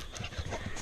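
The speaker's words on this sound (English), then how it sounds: "That dog sure does love to run." A dog on a farm pants after a hard run, with quick, close, breathy huffs in a short burst.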